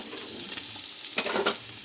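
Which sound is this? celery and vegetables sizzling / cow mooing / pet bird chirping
celery and vegetables sizzling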